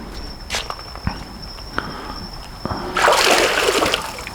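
A PowerVision PowerRay underwater drone churns and splashes water in a pool. A quiet stretch with a steady high whine and faint ticks gives way to a loud, rushing burst of splashing near the end.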